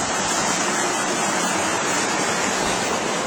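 A small river running down near the beach at Olympos, a loud, continuous rushing wash of water close to the microphone with no voices.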